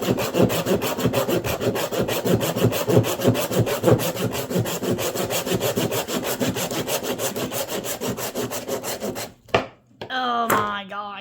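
A handsaw cuts through a hog loin to make pork chops, a steady rhythmic back-and-forth rasp of the blade through meat and bone. It runs close and continuous for about nine seconds, then stops, with a brief voice afterward.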